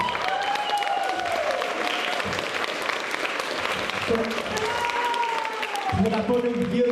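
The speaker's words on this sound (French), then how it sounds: "On va l'applaudir, hein, petit Gabriel." Audience applause for young Gabriel at a country music relay event, steady clapping throughout with a voice talking over it and a few whistling tones.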